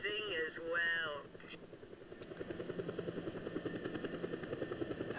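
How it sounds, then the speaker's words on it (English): A voice speaks briefly, then a helicopter's rotor chops in within the video game Just Cause 2, a steady rhythmic thumping with engine whine that grows more pronounced. "helicopters in this game are really easy to fly."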